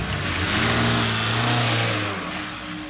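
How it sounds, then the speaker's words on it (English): A car engine starts and revs as the car speeds off, a loud, steady roar that swells and then eases slightly as it pulls away, with no talk. "started up his car, and sped off"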